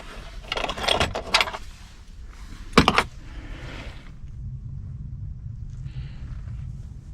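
Keys for a CAT 336 excavator jangle and clatter in a few short bursts near the start, loud and close, before fading into a low steady rumble.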